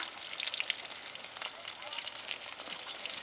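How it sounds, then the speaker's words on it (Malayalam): Slit green chillies and curry leaves sizzling in hot oil in a pan, a steady, close crackling hiss with small pops that carries on without a break. "ഇനി അതിലേക്ക് ഞാൻ മൂന്ന് പച്ചമുളക് കീറിയത് ഇട്ട് കൊടുത്ത് ഇനി അതിൻ്റെ കൂടെ തന്നെ കുറച്ച് കറിവേപ്പില ഇട്ട് കൊടുക്കുക"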